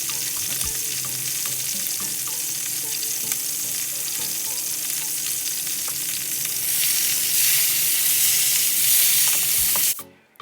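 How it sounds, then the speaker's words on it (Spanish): Ends of a stuffed pork rack seared in a hot pan, giving a loud, steady sizzle and hiss with occasional crackles. The sizzle swells in the latter half, then cuts off abruptly near the end. "lo primero que vamos a hacer es sellar los 2 extremos"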